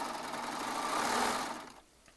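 A Baby Lock Triumph serger stitching and trimming fabric, its motor whirring steadily at close range for under two seconds before slowing and stopping.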